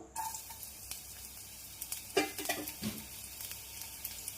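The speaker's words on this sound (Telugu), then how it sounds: "ఇప్పుడు దీంట్లోకి సన్నగా తరిగిన వెల్లుల్లి రెమ్మలు వేసుకుందాం" Finely chopped garlic cloves dropped into about two tablespoons of oil in a wok, giving a quiet, crackling sizzle with scattered pops and a few brief stirring scrapes.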